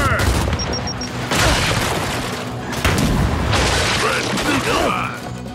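A frag grenade blast in Gears 5 co-op play, a loud booming burst amid continuous gunfire and mechanical clatter, with dense chaotic combat noise filling the whole stretch.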